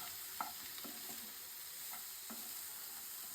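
Onion stalk bhaji with duck eggs sizzles steadily in a pan, a soft continuous frying hiss broken by a few light spatula stirs and scrapes, close and quiet with no talking.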